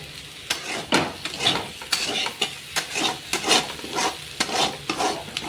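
Yam (karunai kizhangu) masala fried in oil while a spatula stirs it over and over, giving a steady sizzle broken by repeated scraping strokes against the pan in a loose rhythm, close up with no talking.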